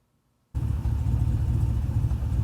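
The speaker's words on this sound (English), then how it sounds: "I just had the engine running for a bit" An LS-swapped car engine starts abruptly and idles with a loud, steady, close low rumble that runs without a break.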